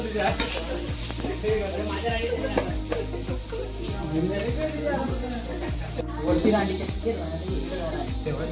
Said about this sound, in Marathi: कांदा मेल्ट करायचं काम चालू आहे कांदा मेल्ट करून घेतोय